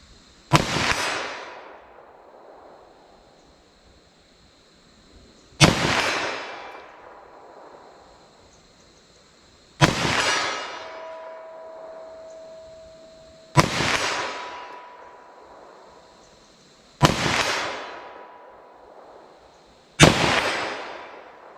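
Six loud .357 SIG pistol shots fired at a target, each a sharp crack with a ringing tail, spaced several seconds apart with nothing between them.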